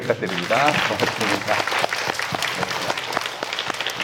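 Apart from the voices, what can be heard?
congregation applause for the choir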